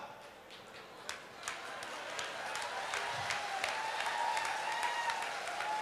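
Audience applause at a Hindi kavi sammelan poetry recital, a moderate crowd clapping that builds slightly and holds steady, with a few sharper claps standing out near the start.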